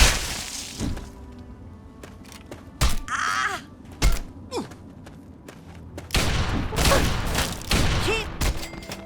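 Bursts of gunfire in Fallout 3 crackle in irregular volleys against cannibal families, with sharp shattering impacts and groaning cries between shots, fairly loud and close.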